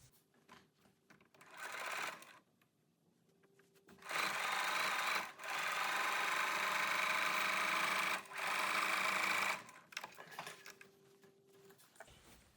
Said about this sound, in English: I'm going to go back and do my 5/8 seam allowance again.